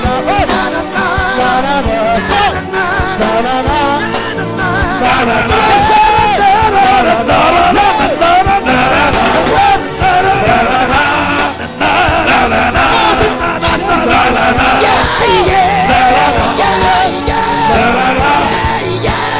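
A church congregation cheers, yells and acclaims the Lord, a loud, dense crowd roar of voices and whoops that carries on steadily for the whole stretch.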